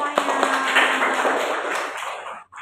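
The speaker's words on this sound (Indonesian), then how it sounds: "Oke, tepuk tangan buat kalian semuanya" Students in a madrasah classroom clap together in a brisk, close burst that fades out near the end, with young voices mixed into the applause.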